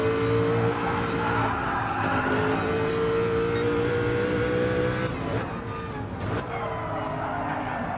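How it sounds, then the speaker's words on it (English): A Mercedes race car engine in a racing game holds a loud, steady high-pitched drone, then shifts in pitch with brief squeals and a dip under braking; the engine note stays continuous throughout. "Beautiful sound of the Mercedes."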